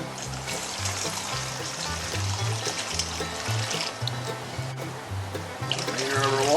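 Cold water pours into a pot of fennel and barbecue sauce for a pork chop marinade, a close, continuous trickle and splash lasting several seconds.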